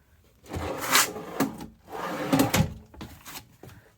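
Drawers in a Cruise America RV interior sliding open and shut, a few woody rumbling slides and knocks in quick succession, close and fairly loud, with no talking.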